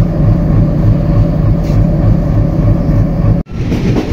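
Simanta Express passenger train standing at Kotchandpur station gives a loud, steady low rumble and hum throughout, broken by a sudden brief drop before the drone resumes.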